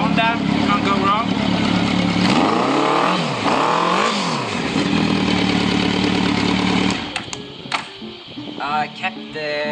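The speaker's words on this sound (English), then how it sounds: "Hear the exhaust. There's no baffles in there at the moment, so it's fairly low." A 4-cylinder Honda motorcycle engine on a custom bike build runs with no baffles in the exhaust, giving a loud, deep, steady drone with a couple of revs before it cuts back to quieter idling and clatter.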